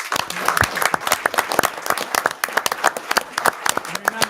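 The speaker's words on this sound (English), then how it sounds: "how about a round of applause for all of our candidates?" A town hall audience at a candidates' night claps steadily for the election candidates, a dense, sustained round of applause with sharp individual claps throughout and no pause.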